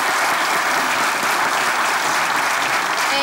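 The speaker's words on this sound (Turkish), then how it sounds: "gerçekten saç, makyaj ve kostüm ekibine kocaman bir alkış alalım" Dense, loud audience applause in a television studio for the hair, makeup and costume team, continuous and even throughout with no talking.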